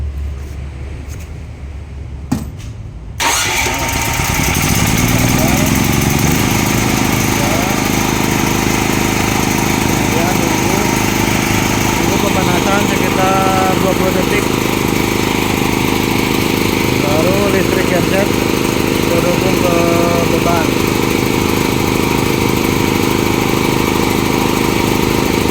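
Krisbow 5500 petrol generator set up with an automatic transfer panel auto-starts: a brief click and starter crank after a few quiet seconds, then a loud, steady engine drone running continuously nearby, with speech underneath.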